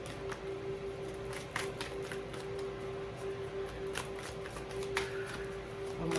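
Soft, rapid riffling and tapping of tarot cards being shuffled, close and quiet, in repeated bursts over a steady faint tone.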